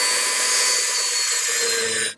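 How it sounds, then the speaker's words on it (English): A drill bores a hole through a resin coaster, giving a continuous high whirring grind for about two seconds that cuts off sharply at the end, close and loud with no talk. "Drill a hole, and then you could stick in a feather"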